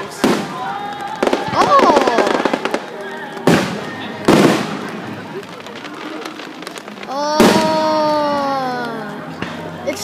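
Fourth of July fireworks burst in loud, sharp booms, four big explosions spaced across a few seconds with crackling and whistling trails between them, while an excited voice exclaims.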